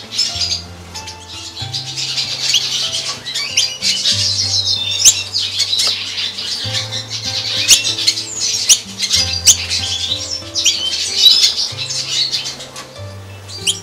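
A female Black-breasted Yellow-bellied bird lands at the nest in a breeding aviary, her young chicks begging. Dense, continuous chirping and squawking fills the scene, with steady low tonal notes underneath.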